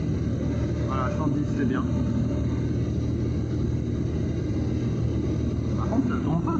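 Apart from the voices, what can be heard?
light aircraft engine accelerating in flight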